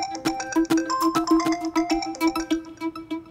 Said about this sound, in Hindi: किसका फोन बजा?